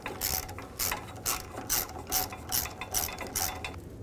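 A hand ratchet tightens catalytic converter bolts on a Ford Escape, clicking in quick rhythmic bursts about every half second, close and clear with no voices.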